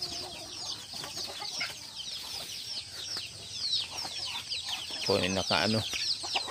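Chickens cluck steadily at feeding time on a small farm while waiting for their food, with a louder close burst of clucking toward the end and a person speaking over them.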